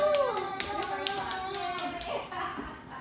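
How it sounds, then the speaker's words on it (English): A small audience at a Gainesville livestreamed music show gives a round of applause, a handful of distinct claps ringing out at a fairly even rhythm over a speaking voice, then fading. "if you get a round of applause."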